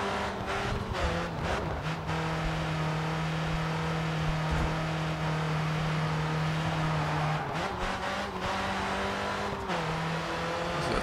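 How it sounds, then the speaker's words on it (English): Race car engine in the video game Grid 2, revving hard through gear changes with a long sustained tire squeal as it skids through sharp corners, close and loud with no talking. "My car wants to keep skidding out."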